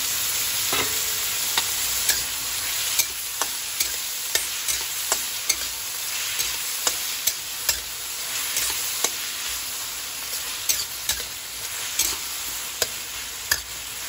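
Onions and tomatoes sizzle steadily in a hot pan for a Filipino miso sauté with vegetables, a continuous frying hiss broken by regular clicks and scrapes of stirring, close and fairly loud with no voices.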